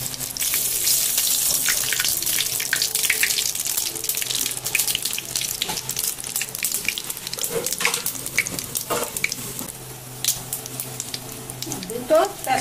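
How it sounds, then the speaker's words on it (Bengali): Cumin seeds sizzle in hot oil for a crab curry, a close crackling hiss that starts loud and then fades to sparse pops, mixed with clinks and scraping from the pan. "এখন দেবো জিরা ফোড়ন, জিরা এই ফোড়ন দিলাম"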